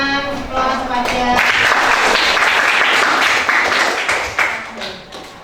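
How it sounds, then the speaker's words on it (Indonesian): Classroom applause from a group of students after a lesson, a burst of dense clapping that swells and then tapers off, with a voice speaking over the start. "kasih tepuk tangan kepada"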